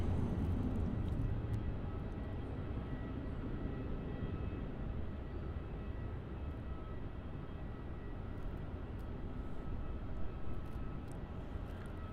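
A Jetstar Airbus A320 departs Melbourne Airport, its engines a steady, broad roar that holds at a constant level from start to finish, with no voices over it.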